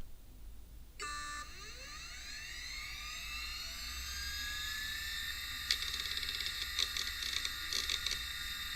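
A Conner 250 MB hard drive spins up inside an Apple PowerBook Duo 270C, with whining tones rising steadily as the platters reach speed, then a steady high whir broken by brief seek clicks and chatter near the end, close and alone.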